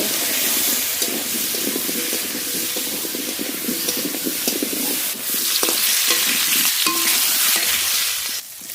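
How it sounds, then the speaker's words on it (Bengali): Potatoes with salt and turmeric fry in hot oil, a continuous close sizzle with repeated stirring and scraping in the pan and a few sharper knocks near the end. "লবণ হলুদ গুঁড়ো আলু খুব ভালো করে ভেজে নেব"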